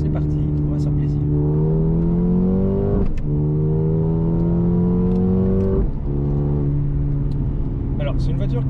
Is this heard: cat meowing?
no